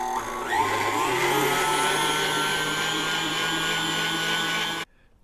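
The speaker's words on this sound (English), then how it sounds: "with an electric mixer on medium-high until light and thick," An electric mixer whirs steadily on medium-high while beating sugar, a loud, even motor drone that holds for nearly five seconds, then cuts off abruptly.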